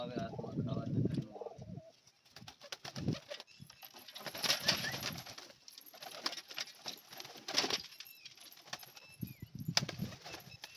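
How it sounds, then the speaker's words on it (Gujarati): Pigeons coo softly inside a loft with eggs and chicks, low murmuring calls alongside bursts of wing flapping and shuffling, with a person speaking nearby at times. "બે આ ઉપર આટલા આટલા કબૂતર છે"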